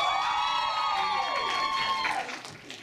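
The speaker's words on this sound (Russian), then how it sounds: "Я объявляю, а вы кричите, а мы послушаем, кто громче." Audience at a jazz awards ceremony in Pyatigorsk shouting and cheering in a loudness contest between towns, a loud sustained crowd roar with whoops that fades toward the end.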